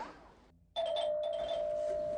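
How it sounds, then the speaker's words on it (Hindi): A doorbell sounds after a brief hush: one sudden, bright electronic tone that holds steadily and rings on loudly and close for well over a second. "मैं तो फिर इतनी घंटियां क्यों मार रहे हो?"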